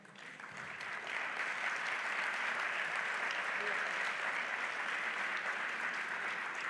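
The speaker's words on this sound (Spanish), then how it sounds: "para quien pedimos un fuerte aplauso de bienvenida" An audience welcomes a conference speaker with sustained applause, a dense wash of clapping that swells in the first second and holds steady.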